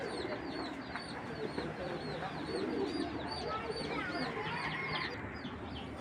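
Giribaz pigeons in a loft sale collection coo in overlapping low murmurs, with other birds chirping and squawking around them and someone talking over the steady crowded birdsong.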